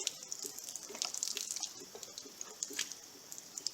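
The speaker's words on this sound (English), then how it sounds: "I hear water leaking" Water trickles and drips steadily from a jug pierced by a bullet, a faint, close splashing with small irregular drops and no voices.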